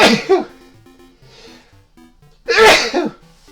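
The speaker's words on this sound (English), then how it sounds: "Oh man, I'm gonna sneeze." A loud, close sneeze bursts out, followed by a quiet pause and then a second forceful sneeze.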